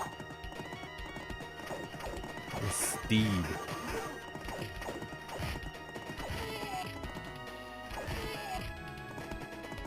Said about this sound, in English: if I keep moving up and down, it seems like they can't knock me off the horse